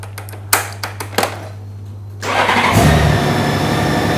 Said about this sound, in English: So as you can see, bike starts up fine, no problem.